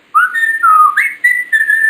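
A person whistles a short melodic phrase of sliding, sustained notes in several bursts, close and clear with no talking.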